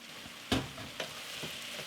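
Basmati rice frying in a pot is stirred, giving a faint sizzle with a few soft scraping strokes, the first one the loudest.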